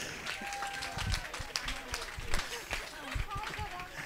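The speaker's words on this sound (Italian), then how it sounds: "L'applauso del pubblico, del pubblico." An audience claps at a cycling award ceremony for the GiroSardegna 2021, a dense patter of hands with scattered louder claps, near and fairly lively.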